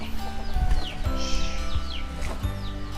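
Domestic chickens in a farm coop cluck repeatedly close by, several birds calling in short overlapping phrases against a background of low farmyard noise.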